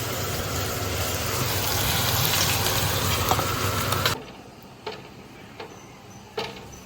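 Chillies fry in oil in a pan with a loud, dense, close sizzle lasting about four seconds before cutting off abruptly, followed by a few scattered light clicks in near quiet.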